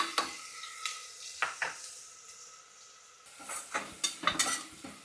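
A spoonful of ginger garlic paste goes into well-sautéed onions in a pan, giving a soft sizzle with spoon scrapes and taps against the metal, a few clustered knocks near the start and a busier burst of stirring at the end.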